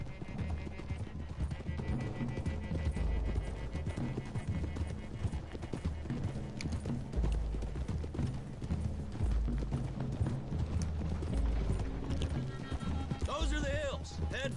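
Several horses clip-clop at a run through a western video game, steady layered hoofbeats carrying throughout, with a whinny near the end and talk over the top.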